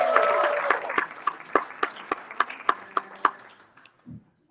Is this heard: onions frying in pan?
no